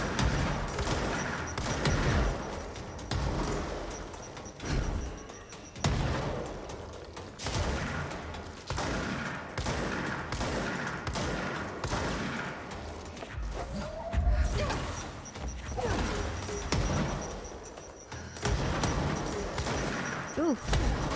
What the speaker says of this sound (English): It's a lot of gun noises.